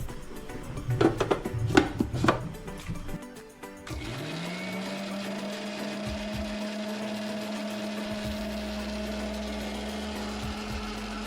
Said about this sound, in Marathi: आता आपण ही मिक्सरला लावूया